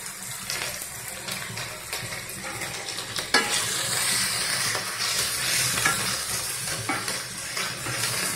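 Mutton hits hot oil in a pan with a dense, loud sizzle that swells after a sharp clatter partway through. Scraping stirs run under the steady frying hiss, with no one speaking.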